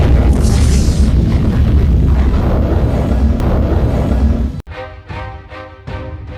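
Atomic bomb explosion over Hiroshima: a massive, sustained roaring rumble that fills everything for several seconds, then cuts abruptly into a quieter, ringing tonal aftermath.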